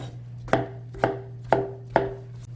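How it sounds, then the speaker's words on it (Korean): A knife chops an onion into large pieces on a cutting board, with four sharp, evenly spaced thuds over a low steady hum and no talking. "양파 세송이 반 잘라서 그냥 큼직하게 썬다"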